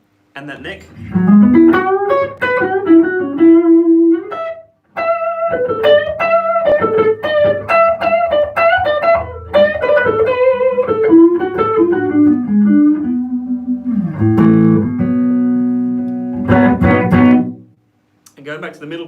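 Gibson Les Paul electric guitar on the neck pickup, loud and close, with warm single-note runs and chords, a short pause, then held notes ringing out to a final strum.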